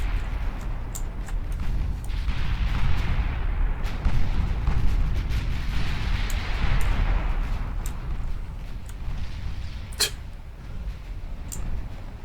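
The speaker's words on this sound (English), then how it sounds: "Was that another torpedo hit?" A torpedo strike in the naval warship game Ultimate Admiral Dreadnoughts sounds as a deep, rumbling explosion. Low booms roll continuously beneath a sustained roar of battle, with a sharper crack near the end and no talk over it.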